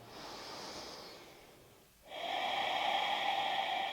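Slow, deep breaths during yoga practice: one long airy exhale fades out, then after a short pause a strong, steady inhale or exhale follows, close and clear, with no talking.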